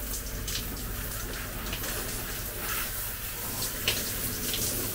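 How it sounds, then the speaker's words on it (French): Water runs steadily from a shower in a small water-tank-fed setup, a continuous, even hiss with no voices. "Bon, prendre une douche, ça fait du bien."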